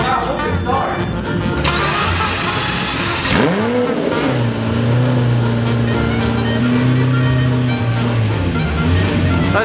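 Straight-piped Lamborghini Gallardo Superleggera firing up in a garage: a starter whirr and sharp catch, then a loud, steady, droning idle with a brief rev, close and dominant, with voices speaking over it early on.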